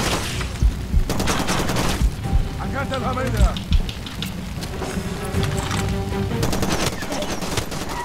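Gunfire in the video game Far Cry 2 comes from behind: repeated loud bursts and single shots crack out over steady rain-like noise, with a voice talking underneath.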